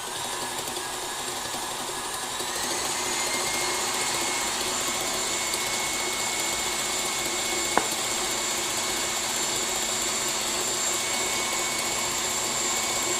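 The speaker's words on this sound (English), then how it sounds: "I'm going to beat this margarine until it's nice and fluffy." Electric mixer beating margarine in a bowl for egg custards, a steady close motor whir running throughout with one brief click partway through.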